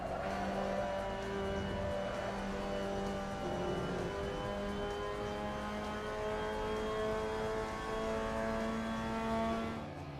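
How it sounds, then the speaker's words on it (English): Mazda MX-5 Cup racing car lapping Kazan Ring in the Assetto Corsa sim, a steady loud engine drone with layered harmonics rising and falling through gear changes, continuous for the whole stretch with no talk. "So that was a lap around Kazan ring with the Mazda MX-5 Cup"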